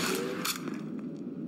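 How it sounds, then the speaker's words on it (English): Sharp gunfire bursts in the shooter video game Half-Life 2: Entropy: Zero 2, a loud blast opening followed by another shot and fainter impacts, with no talk. "No, he's shooting me."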